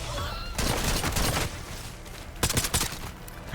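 An MP40 submachine gun in a zombies-style shooter video game fires in two rapid bursts of dense automatic fire, loud and close, separated by a short pause.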